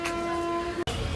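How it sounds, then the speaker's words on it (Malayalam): A train leaving a station sounds a sustained horn tone close by, followed by a brief cut and rumbling movement. "നമ്മളൊന്ന് ട്രെയിൻ പോകുന്നു."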